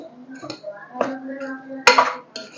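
Drumstick masala curry is stirred in oil in a pan, with a few sharp metallic clinks and scrapes of a spoon against the pan spaced out over a couple of seconds while someone talks.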